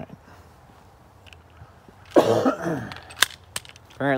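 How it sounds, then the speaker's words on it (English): A single harsh cough from a person with flu bursts out after a quiet stretch, followed by a couple of faint clicks and a short throat sound near the end. "Apparently this cough and the flu just never goes away"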